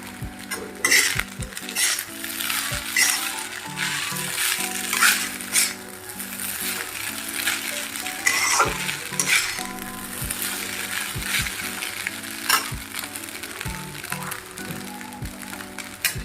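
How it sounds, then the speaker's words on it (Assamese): Beaten eggs frying and sizzling in a pan at home, with steady crackling and repeated utensil scrapes and stirring clatter close by, and no talk. "ডিমখিনিও ইয়াত মিলাই দিম ভাজি থকা ডিমখিনি ইয়াত মিলাই দিলোঁ"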